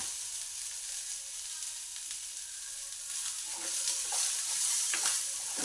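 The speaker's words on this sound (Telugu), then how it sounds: "చూడండి మంచిగా ఫ్రై అవుతున్నాయి." Sweet corn kernels fry in hot oil with a steady, bright sizzle throughout, joined later by a few faint pops and a soft stirring scrape, with no voices.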